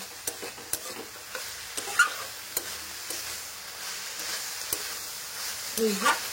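Cabbage curry being stir-fried in a pan, a steady soft sizzle with scattered scraping clicks of a spatula stirring at intervals, close and moderate, no voices.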